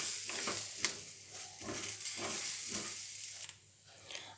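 Moong beans with salt roasting in a pan, stirred now and then: a soft, steady sizzle with faint scraping strokes of the spoon at a low level, no voices.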